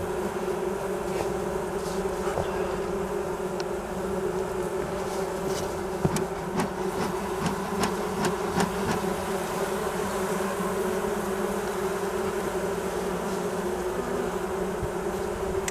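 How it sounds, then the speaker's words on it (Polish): Dense, steady buzzing of many honeybees as smoke drives them into the hive for the winter cluster, continuous and close throughout with no voices. "Czas ucieka, a pszczółki ciężko zagnać do ula. Jeszcze się miotały, jeszcze się miotają."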